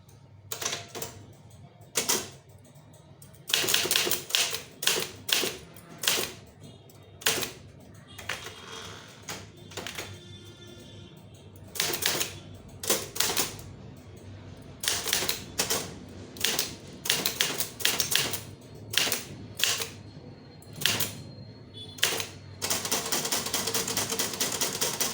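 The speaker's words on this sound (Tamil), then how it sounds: "இப்போ நான் 40 டிகிரியில் வச்சுட்டு இப்போ இங்கே இருக்கிறத நான் டைப் பண்ணுறேன்" A manual typewriter types a letter in Tamil, with bursts of sharp, rapid key strikes separated by pauses. It sounds close and fairly loud, and there is no talk.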